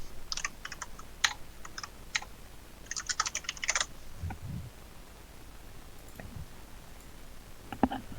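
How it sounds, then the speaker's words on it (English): Keys clatter on a computer keyboard in quick bursts of typing, close and crisp, separated by short pauses and a few soft thumps, with no talking. "let me type it for you"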